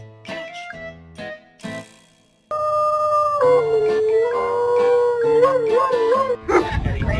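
A dog lets out several short whimpers, pauses, then breaks into a long wavering howl that rises and falls at close range and ends in a rough yelp.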